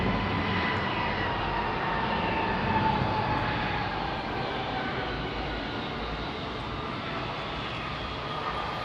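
An airliner departing Heathrow on the Oslo flight gives off a steady, loud jet roar with a broad hiss and a whining tone, sustained close by without a break.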